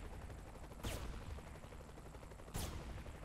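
Gunfire in Saints Row: The Third, two sharp isolated shots about two seconds apart over a low, steady game background.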